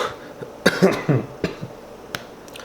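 A few short, sharp coughs close by, spaced unevenly over a couple of seconds, with quiet pauses between them.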